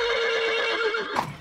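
A horse neighs in a farm animal song, a loud, close whinny with a wavering pitch lasting about a second, followed by brief hoof-like knocks.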